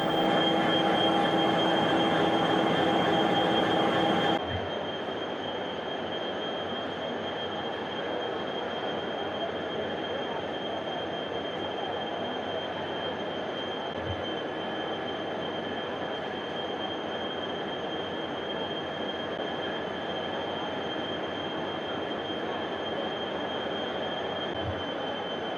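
Two Indian-built 3000-horsepower cape gauge locomotives from the Varanasi locomotive works, made for export to Mozambique, rumble steadily with a loud opening burst, sustained wheel squeal tones and occasional low thumps, with no talk.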